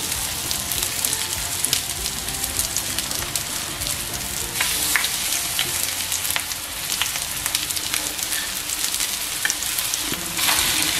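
Potato cutlets (aloo tikki) frying in hot oil give a loud, steady crackling sizzle with dense rapid pops, close and continuous throughout with no talk.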